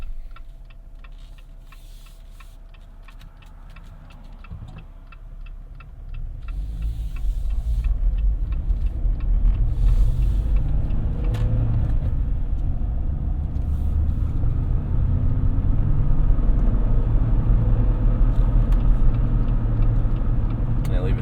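Cabin of a 2022 Jeep Wrangler Unlimited Willys pulling away, a low engine and road rumble building and holding steady with faint ticking, heard from inside.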